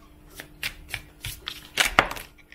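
Crisp bursts of tarot cards riffling and slapping together, several short shuffles in an uneven rhythm, close and fairly quiet with no talking.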